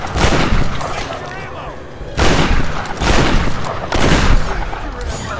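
Loud, close bursts of gunfire from the Tomb Raider video game come in three clustered volleys with heavy low booms, separated by brief lulls.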